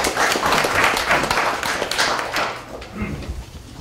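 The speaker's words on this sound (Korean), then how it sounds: "힘찬 박수로 맞이해 주시기 바랍니다." Lively clapping from the audience at a lecture hall event welcoming a speaker, dense and fairly loud, tapering off near the end as a few murmurs come through.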